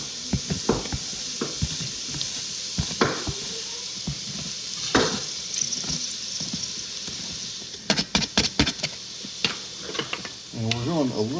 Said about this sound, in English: we got these guys cooking up in here, just the butter and onions